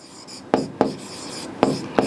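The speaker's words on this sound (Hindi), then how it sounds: "तो यहाँ लिखेंगे यदि" Chalk or marker strokes on a classroom board during a Class 10 geometry lesson: four sharp scratchy taps with brief rubbing between them, close and clear, with no talk.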